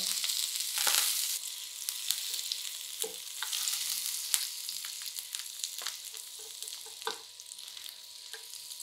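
Butter sizzles and crackles steadily as it is spread across a hot frying pan for a bread and egg breakfast, with occasional scraping and stirring clicks close by.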